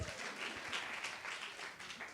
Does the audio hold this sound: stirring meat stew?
no